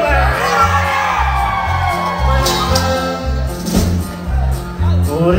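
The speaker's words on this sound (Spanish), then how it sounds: "Y nunca falta el grito típico de nosotros ya cuando entra." A crowd at a Mexican norteño music event lets out the traditional grito, with whoops, yells and shouting over a pounding bass beat, loud and close, mixed with voices.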